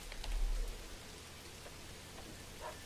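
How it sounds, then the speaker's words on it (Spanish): Steady rain falls in the medieval city-building video game Manor Lords, a soft continuous hiss of drops with no other sound, slightly stronger at the start and then even. "está lloviendo."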